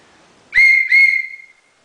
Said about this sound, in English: if other rescuers need to find you, maybe you have a whistle